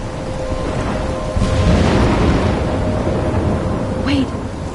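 Thunderstorm in the video game Life is Strange, steady heavy rain with a deep rolling thunder swell in the middle, loud and close, with a voice speaking over it.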